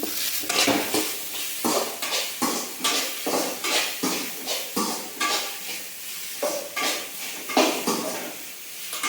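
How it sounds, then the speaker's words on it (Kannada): Okra being fried in a pan for a home-cooked palya, with a regular rhythm of spatula scrapes and stirring strokes against the pan over a soft sizzle, close and fairly loud, without talk. "ನೋಡಿ ಈಗ ಬೆಂಡೆಕಾಯಿ ಪಲ್ಯ ಮಾಡ್ಬೇಕಂತ ಬೆಂಡೆಕಾಯಿ ಹುರಿಯಕತ್ತಾರಿ"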